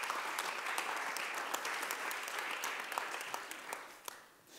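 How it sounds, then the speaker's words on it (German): Sustained applause from a panel audience at a sport conference, steady dense clapping throughout with scattered sharper claps, tapering off toward the end. "Also ein Riesenapplaus für dieses große,"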